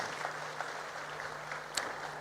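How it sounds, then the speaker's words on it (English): Audience applause for presidential panelists at the African Development Bank Annual Meetings opening in Nairobi, a steady, fairly faint wash of clapping from a large hall, continuous throughout with a low hum beneath. "Kindly give our presidential panelists really a warm round of applause once again."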